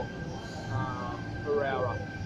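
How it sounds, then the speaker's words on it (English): Sydney Tangara and Waratah trains arriving at Lindfield station, a low rumble with a steady tone and brief brake squeal, heard under a voice talking. "Tangaras arriving and a Waratahs also arriving"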